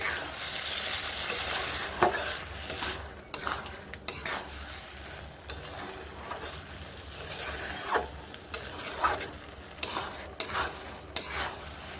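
Cauliflower curry with water is stirred in a pan, a spoon scraping and swishing in repeated strokes over a soft simmering sizzle, with occasional clinks against the metal.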